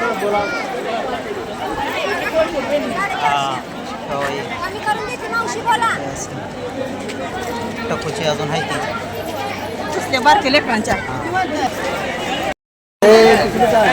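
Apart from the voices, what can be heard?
crowd chatter at Pandharpur temple on Ekadashi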